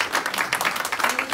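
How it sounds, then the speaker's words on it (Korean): Audience at a lecture event clapping for four lecturers, a brief burst of dense, even applause close by. "다시 한번 네 분의 강연자들에게 큰 박수를 보내주시면 좋을 것 같습니다"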